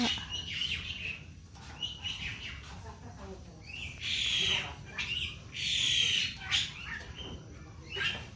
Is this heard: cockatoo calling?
yes